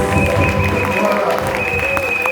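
A church congregation applauds and cheers to acclaim the Lord, a dense, loud, continuous wash of clapping with voices and sustained tones mixed in.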